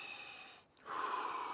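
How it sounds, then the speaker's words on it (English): A person draws a deep breath in through the nose, a brief pause followed by a long, strong, airy inhale heard close and alone. "start breathing"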